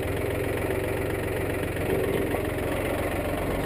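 A farm tractor's engine runs steadily close by while its front loader bucket is raised, a continuous mid-to-low rumble with no break and no talking.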